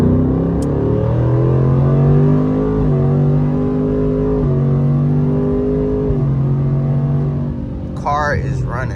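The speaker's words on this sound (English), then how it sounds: "Car is running, bro." A Ford Mustang S650 engine runs steadily with a smooth, sustained drone that rises and dips slightly in pitch, close by and loud, with a brief higher burst near the end.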